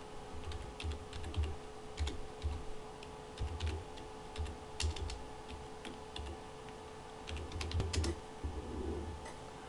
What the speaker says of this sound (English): So let's go ahead and type in this IP camera's new IP address.